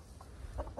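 Pet hens cluck softly in a short burst of a few low, brief notes, close by with no talking.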